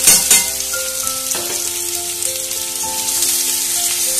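Papaya and potato pieces fry with onion and garlic, salt, turmeric and a little sugar in a pan, a loud steady sizzle opening with a sharp clatter of stirring, while a faint electronic tone pattern runs underneath.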